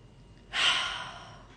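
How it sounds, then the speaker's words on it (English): A single deep breath in, a close airy inhale rising suddenly and fading over about a second, alone in a quiet room. "Deep breath in."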